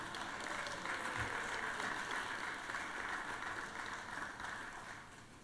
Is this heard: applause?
yes